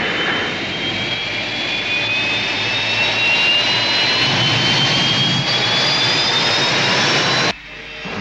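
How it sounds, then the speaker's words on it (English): Rescue ship engine effect from the 1975 science-fiction series Space: 1999, a loud steady jet-like roar with a rising whine, sustained throughout, then cutting off sharply near the end. "Rescue ship moving."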